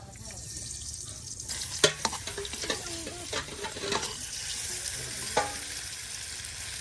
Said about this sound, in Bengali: একদম মসমসে ভাজা হয়ে যাচ্ছে হ্যাঁ আলুগুলো এখন